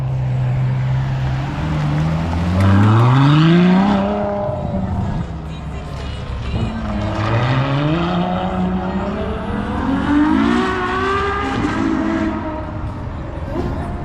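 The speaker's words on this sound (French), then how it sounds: "Je lui ai dit de mettre gaz dans un virage." A car at a French car meet accelerates hard through a bend. Its engine note rises and falls loudly, with revs sweeping up and down over the crowd's background noise.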